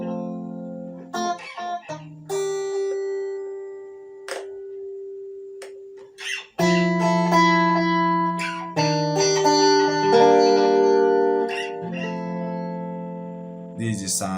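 An electric guitar runs through a reverb pedal on an ambient setting with a long pre-delay, so plucked notes and chords ring out and trail into a sustained, washy tail. Speech is also heard.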